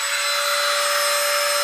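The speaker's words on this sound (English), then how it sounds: "Let's turn the vacuum on." A Baseus cordless car vacuum cleaner runs at a steady high-pitched whine with a constant motor hum, loud and close, with no talking.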